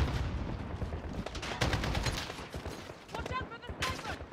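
Rapid sniper and rifle shots crack across a Call of Duty Modern Warfare battle, dense overlapping bursts arriving fast and sharp while shouting voices overlap the gunfire.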